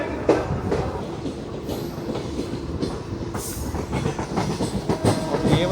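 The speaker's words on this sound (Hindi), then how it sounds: "गाड़ी अभी राय का बाग पैलेस स्किप कर रही है, यहाँ से जा रही है।" The Sabarmati-Jammu Tawi Express 19223 runs on the rails, heard from on board as a steady rumble with rhythmic clickety-clack wheel beats, continuous and close.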